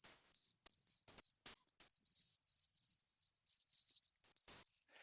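A person imitates the thin, high-pitched, insect-like call of a cedar waxwing with a string of faint hissy trills and short bursts. Soft clicks and breath noises fall between the calls.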